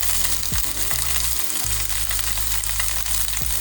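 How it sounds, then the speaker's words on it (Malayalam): Crushed shallots and garlic sizzling in hot coconut oil for Kerala parippu curry, a loud, dense, continuous crackle close by, with a low electric hum beneath. "നമുക്ക് ചതച്ച് വെച്ച ഉള്ളിയും വെളുത്തുള്ളിയും ചേർത്ത് കൊടുക്കാം"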